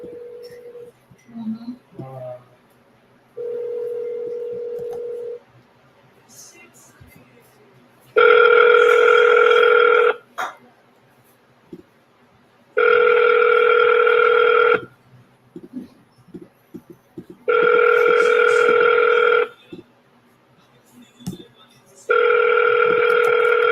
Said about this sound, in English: All right, one last phone call.